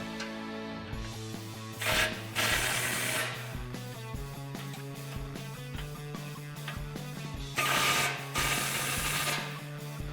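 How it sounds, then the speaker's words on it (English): A socket wrench ratchets rapidly and close up while tightening winch mounting bolts on a Jeep Wrangler, clicking continuously with two brief louder bursts of mechanical noise. "Now to tighten this up, we're going to use a 16mm socket on our bolt side, and on the nut side is actually a 17mm wrench."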